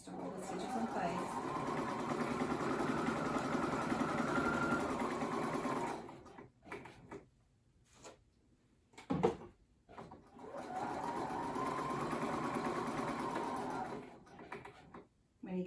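A sewing machine stitches quilted Christmas ornament fabric in a steady, fast whirring run, pauses with a few clicks and handling noises, then sews another long even stretch, close and clear.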